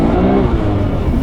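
A Tommy Kaira R-Z 2.7L Nissan Skyline R34 GT-R V-Spec II with an RB26 engine revs hard under acceleration, a loud, close, steady engine roar over a brief stretch.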